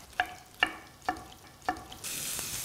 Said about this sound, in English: My onion is sauteing beautifully.